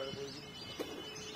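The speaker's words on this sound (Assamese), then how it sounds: "চৰাই আহি ইয়াত পৰিছেহি" Birds near a pond calling faintly, a few soft chirps and coos against a hushed outdoor background.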